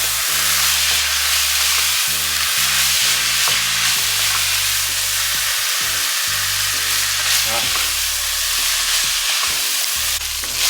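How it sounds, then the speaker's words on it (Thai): Beef with holy basil stir-fried in a wok, giving a loud, continuous sizzle and hiss with repeated metal scraping and stirring strokes throughout, close up and alone. "ผัดให้เข้าที่นะครับ"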